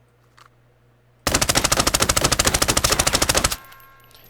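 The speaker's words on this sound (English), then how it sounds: "test out this MP5 build. So this is me not controlling any of the recoil at all" An MP5 in the video game Arena Breakout fires one long, sustained full-auto burst of about two seconds at a firing range, with rapid, evenly spaced loud shots, then stops abruptly and a short tail fades.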